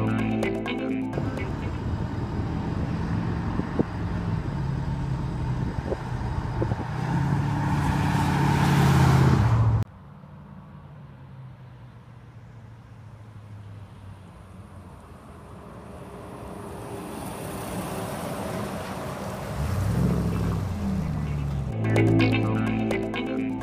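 A 1957 Chevrolet Apache truck converted into a muscle car drives past with a steady engine rumble and wind roar, cutting abruptly to a quieter stretch before the engine noise builds again.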